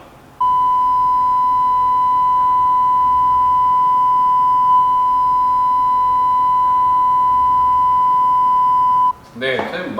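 A single constant electronic test tone, loud and pure, holds unchanged for about nine seconds, then cuts off into a brief rustle.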